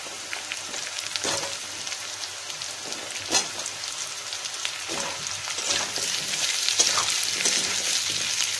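Potato pieces fry with garlic in a pan for a Bengali fish-head muri ghonto, giving a steady, close crackling sizzle with occasional stirring clicks and scrapes and no talking.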